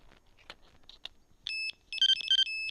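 A FLACARP SOLUX solar-powered fishing bite alarm's pager, set to its highest pitch. Faint clicks come first, then a close, bright, high electronic tone sounds in short bursts that turn into a quick run of repeated beeps.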